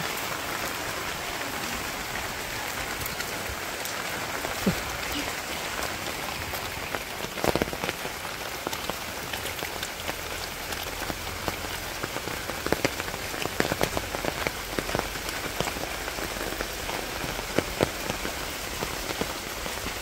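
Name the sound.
rain falling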